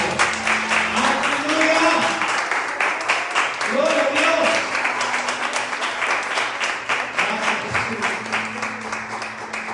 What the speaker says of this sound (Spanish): Yo quisiera que la gente de la casa pues, le dé un aplauso a los que tenemos en los medios.